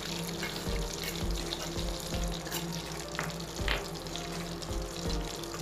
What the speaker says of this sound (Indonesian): kita tumis bumbu yang sudah dihaluskan